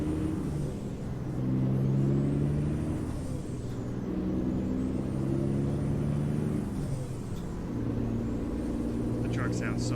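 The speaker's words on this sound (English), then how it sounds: "The truck sounds so much better." Truck engine running in a driving video game, a steady low rumble with shifting tonal bands and hiss-like air bursts, with people talking over it.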